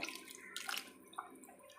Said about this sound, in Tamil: இது வந்து நம்ம வெந்நி தான் ஊற்றணும்